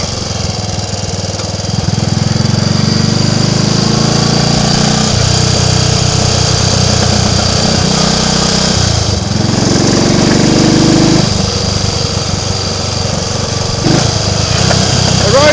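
A Triumph Tiger Cub motorcycle engine runs steadily on a Christmas Eve ride along country lanes, a loud continuous drone that dips and rises with throttle changes, briefly easing off midway before picking up again.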